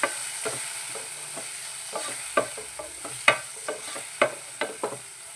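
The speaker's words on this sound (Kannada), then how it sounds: "ಅರಿಶಿನ ಪುಡಿ ಹಾಕ್ಕೊಂಡು ಇದನ್ನು ಚೆನ್ನಾಗಿ ಫ್ರೈ ಮಾಡ್ಕೊತೀನಿ." Spices with turmeric powder frying in oil for black pepper rasam, a steady soft sizzle broken by irregular scraping stirs of a spoon against the pan, close and fairly quiet with no talking.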